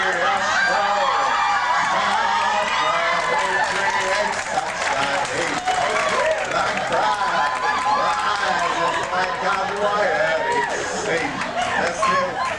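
A large audience at the Miss California Follies 1997 show cheers and applauds continuously and loudly, a dense wash of clapping and voices that stays steady throughout.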